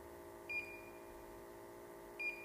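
A portable gas detector sounds two short, high electronic beeps about two seconds apart as lighter gas passes its 10% LEL alarm threshold, faint over a quiet background hum.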